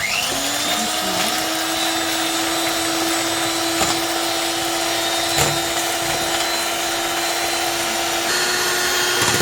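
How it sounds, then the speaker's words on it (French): Electric mixer whipping cream flavored with vanilla into chantilly, a steady continuous motor whine holding an even pitch throughout, close and loud with no talking. "Et on va fouetter tout ça. On va battre."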